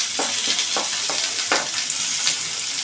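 Prawn fritter curry with turmeric sizzles steadily in a pan, with a run of soft scraping stirs breaking through the constant hiss at close range.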